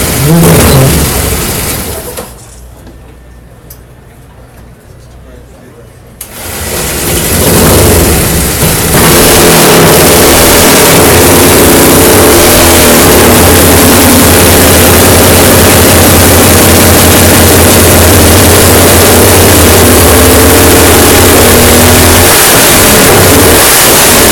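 A restored vintage Indian motorcycle engine roars loudly up close, dips briefly, then returns to a sustained, steady, heavily saturated running noise with revving.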